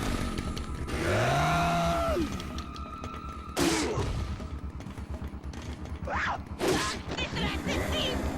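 A chainsaw-wielding enemy on a railroad car in Resident Evil 4, a buzzing saw engine droning under game noise with sharp crashes and impacts, while someone talks over it.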